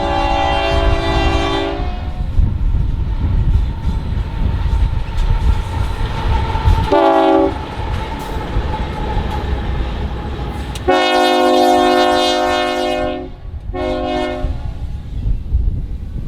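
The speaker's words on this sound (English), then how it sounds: "a train was coming on the nearby Union Pacific Belvidere Subdivision" A single Union Pacific locomotive passes on a Belvidere Subdivision line near the Illinois Railway Museum, sounding its horn in loud blasts at the start, middle and end over a low rumbling diesel engine.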